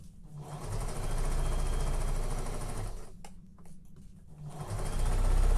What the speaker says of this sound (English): then sew the new line and take the pins out as you go